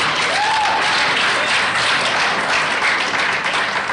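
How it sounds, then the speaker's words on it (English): Audience applause at a talk, a dense, continuous wash of many hands clapping, steady and fairly loud throughout with no voice on top. "there are a lot of men applauding because they really like it when you're up front."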